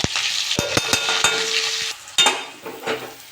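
Three green chillies frying in hot mustard oil in a pan, a bright crackling sizzle punctuated by several sharp clinks and scrapes of a spatula, close and fairly loud with no talking.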